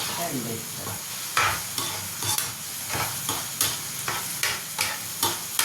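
Curry leaves fry in hot oil in a pan for chicken fry, a close, steady sizzle broken by regular scraping stirs of a spoon against the pan, with no talk.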